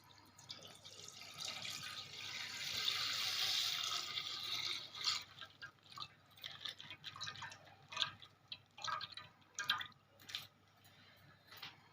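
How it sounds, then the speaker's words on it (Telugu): Half a litre of milk poured into a pot set atop another vessel, a soft close liquid stream followed by irregular drips and splashes, faint and alone. "దీని మీద వేరే గిన్నె పెట్టుకొని 1/2 లీటర్ పాలు అయితే పోస్తున్నానండి"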